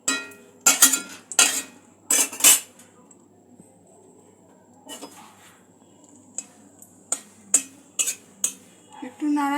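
Dry red chilies being stirred in a pan over a medium-low gas flame for a North Indian style creamy paneer dish, with several sharp metal spoon-on-pan scrapes and clinks in bursts between quieter gaps.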